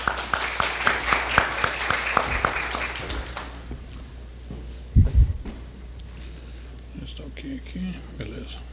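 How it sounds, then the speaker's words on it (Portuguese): Audience applause at a corporate talk, welcoming the customer relationship director of Azul Linhas Aéreas Brasileiras: dense, steady clapping for about three seconds that fades into quiet room noise, with one brief low thump later. "Uma salva de palmas."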